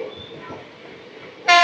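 A passenger train at a station in Kerala rumbles at low volume before its horn blasts suddenly, loud and close, for the final moments.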